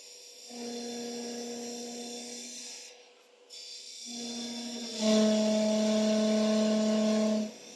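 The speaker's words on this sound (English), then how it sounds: "then I'll just re-drill" A wooden peppermill blank spins on a lathe while a drill bores into it, producing a steady whining hum that drops out briefly, then returns louder with a harsher, higher drilling tone.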